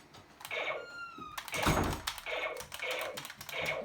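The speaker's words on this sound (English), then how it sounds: "You just cock it like that, and you shoot it." Toy Nerf gun being cocked and reloaded, a few close, light plastic clacks and snaps spread across the moment, with a faint tonal whine early on.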